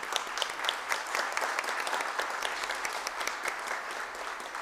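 Steady audience applause fills a solemn ceremony hall during a Tiradentes Medal award session, a dense wash of many hands clapping at even volume with no voices over it.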